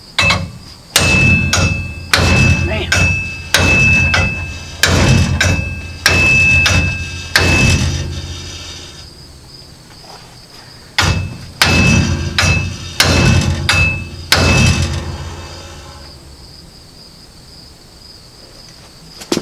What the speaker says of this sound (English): Got to get a hammer